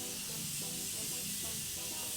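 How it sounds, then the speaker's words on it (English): Morphe Continuous Setting Spray misted onto a face, a steady close hiss of fine spray lasting a couple of seconds, quiet and unbroken. "So I'm just gonna spray my face."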